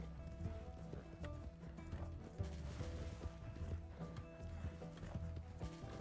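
Horse galloping in the video game Red Dead Redemption 2, a continuous rapid clip-clop of hooves with mechanical tack rattle, steady and moderately close throughout with no speech.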